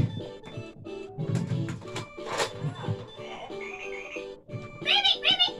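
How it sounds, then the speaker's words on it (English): Frog croaks played during a children's animal-sound game, a series of repeated croaking calls with changing pitch, with some voice mixed in. "What sound does a frog make?"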